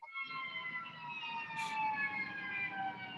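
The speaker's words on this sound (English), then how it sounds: "I'm not sure who's got sirens in the background." A siren wails steadily in the distance with rising and falling tones, faint traffic rumble underneath.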